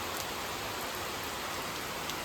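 Heavy rain falls steadily outdoors in a hill setting, a dense constant hiss of drops hitting surfaces with no break and no voices.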